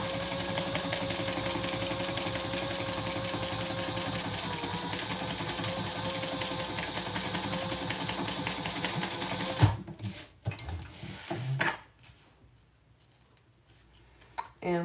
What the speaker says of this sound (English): You backstitch over each of the card slots.